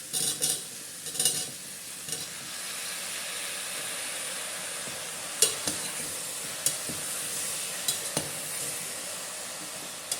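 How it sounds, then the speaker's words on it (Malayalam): Diced carrot and potato sautéing in a pan, a soft steady sizzle with occasional sharp clinks and scrapes of a utensil stirring against the pan, fairly quiet and close, with no talk. "ചെറുതായിട്ടൊന്ന് വഴറ്റിയിട്ട് നമുക്കിത് ക്യാരറ്റ് ഉരുളക്കിഴങ്ങ്"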